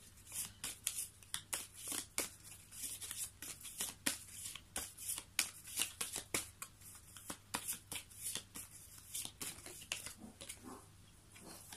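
Tarot cards being shuffled and drawn by hand, a steady run of crisp, close riffling and slapping card sounds in quick irregular bursts, with no talking.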